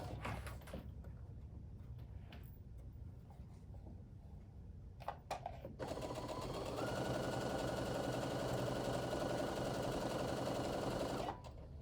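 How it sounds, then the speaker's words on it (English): Sewing machine stitching a plain rectangle onto a small four-patch quilt block: a few faint clicks and handling sounds, then a steady, even motor whir running continuously for about five seconds before stopping. "I'm just going to sew that on."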